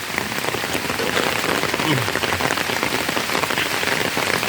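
Steady rain pours down on a wet day outdoors, a dense, loud patter of drops hitting the ground, continuous and unbroken throughout.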